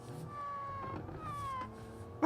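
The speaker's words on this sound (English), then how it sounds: "It literally makes cat noises, that's the best side effect I could have had." A car engine in the video game Automation makes cat-like meowing wails, mostly when the throttle is lifted, with gliding tonal cries over a steady engine drone, close and moderately loud, ending in a brief sharp thump.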